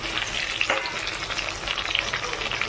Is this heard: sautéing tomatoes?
yes